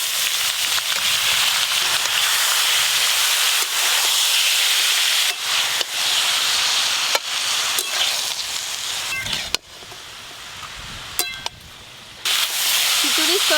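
Washed cabbage dropped into a hot iron kadai with already-fried carrot and cauliflower for vegetable khichuri, hissing and sizzling steadily with crackles, briefly dipping quieter near the end.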